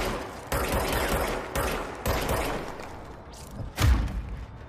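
Enemy gunfire in the game Control, four or five heavy, booming shots spaced roughly half a second apart, followed by a louder thudding blast near the end.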